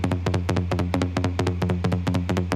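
A Serum synth bass line built from a sine wave plus a saw wave two octaves down, both slightly detuned, for a UK house track, playing steady sustained notes with regular plucky accents in a close, loud, continuous pattern with no side-chain pumping.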